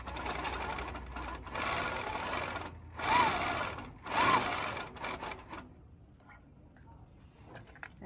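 A sewing machine hums steadily as it stitches a longarm quilting leader, running for several seconds with short pauses before stopping and going quiet.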